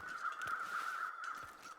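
Crows in the survival video game The Long Dark caw repeatedly in a harsh, steady run of calls, clear and fairly close, with no voices.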